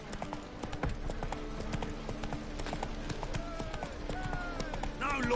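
Roach the horse gallops in The Witcher 3, steady rapid clip-clop hoofbeats running throughout, with game voices murmuring faintly in the background.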